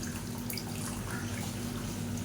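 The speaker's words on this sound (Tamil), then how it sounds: "இப்போ இதில் தேவையான அளவுக்கு புளி தண்ணியும் கரைச்சி ஊற்றிக்கலாம்" Tamarind water poured into a simmering paruppu urundai kuzhambu, a steady close liquid splash and trickle lasting a couple of seconds over low kitchen hum.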